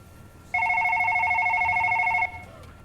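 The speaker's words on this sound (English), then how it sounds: "you hear the phone ring a couple cubicles down from you" An office telephone rings a couple of cubicles away, one steady electronic trill lasting under two seconds, clear over quiet room tone.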